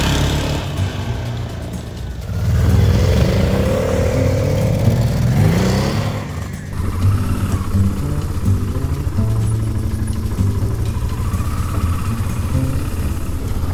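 Motorcycles ride a rural gravel road through a small forest in foggy autumn, engines droning steadily and close throughout, with a rise in revving around the middle and continuous rumble beneath.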